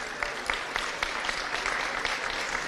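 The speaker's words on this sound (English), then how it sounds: "You can applaud the under-15s as well." Crowd applauding the under-15s at a stadium after a hurling match, scattered clapping at moderate distance, steady and fairly light with a few sharper claps standing out.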